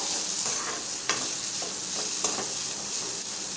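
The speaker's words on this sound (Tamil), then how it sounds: "எண்ணெயிலே இப்போ இதை வதக்கிக்கலாம்" Kozhukattai stuffing sautés in oil in a pan, giving a steady close sizzle broken by a few scraping stirs.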